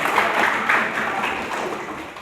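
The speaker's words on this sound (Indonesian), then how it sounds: "Tepuk tangan untuk kalian semua." Brief applause from a class or group of students, a soft diffuse patter of clapping hands that fades slightly over its short span, with voices faintly mixed in.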